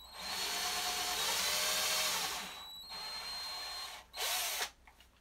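A power drill whirs steadily for a few seconds through soft basswood with little pressure, pauses briefly, then spins up again in a short burst before stopping.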